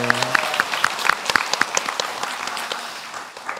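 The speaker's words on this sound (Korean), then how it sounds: "우리 이 시간 큰 박수로" A church congregation applauds parents during a Parents' Sunday worship service in Korea, a lively burst of many hands clapping in a quick, uneven rhythm that starts strong and gradually thins out.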